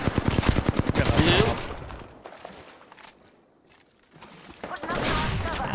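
Rapid automatic gunfire in an Apex Legends battle-royale match, loud bursts of closely spaced shots at the start, fading into quieter distant fire and movement, then another heavy volley near the end, with voices chatting underneath.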